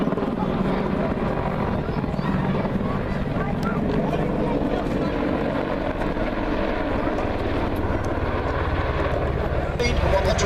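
An Apache attack helicopter performs aerobatics at the Duxford Air Festival, its rotor and engine making a continuous loud, heavy drone while a commentator speaks over the public address.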